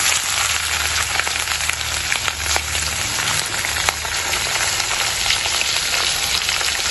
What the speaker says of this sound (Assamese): এতিয়া ইয়াত তেল গৰম হৈ আছে, মই গেছটো কমাই লৈছোঁ। ইয়াত মাছ প্ৰথমতে মই 2 পিচ ভাজিম।